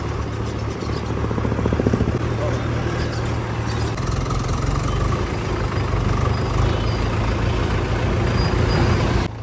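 A Mahindra 585 DI XP Plus 50 hp tractor engine drones steadily and loudly close by, a constant low rumble with a slight shift in pitch partway through.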